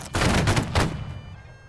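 A musket volley cracks out as one ragged, rolling burst of several near-simultaneous shots, then fades quickly, in the Napoleonic-era video game Holdfast: Nations at War.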